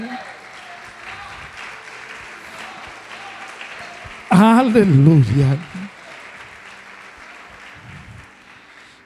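Church congregation applauding during a Portuguese-language sermon, a steady wash of clapping under the preacher's voice, which swells into a loud shouted exclamation midway before the clapping settles back.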